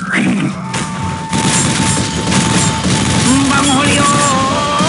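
Heavy gunfire bursts from Unreal Tournament 2004 with Ballistic Weapons in a team deathmatch, loud and continuous across the clip, mixed with game effects and a shouted voice.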